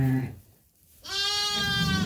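A ewe with newborn lambs bleats in a barn. A low call comes first, then a short pause and a loud, close, wavering bleat that lasts about a second.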